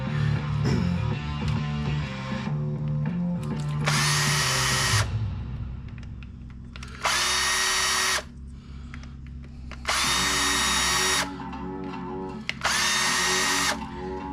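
A power screwdriver backs M3 screws out of a 7-inch long-range drone frame in several separate whirring bursts of a second or two each, with quieter handling and clicks in between.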